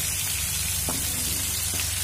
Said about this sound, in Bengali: দেখুন ফুলকপি আমার ভাজা হয়ে গেছে,